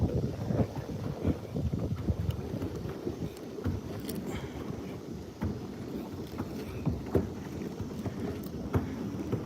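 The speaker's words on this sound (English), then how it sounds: "Got a big gust of wind coming through." Steady outdoor wind gusting past a bass fishing boat on open water, low broadband rumble with buffeting microphone noise and light water sloshing throughout, fairly constant with a few sharper bumps.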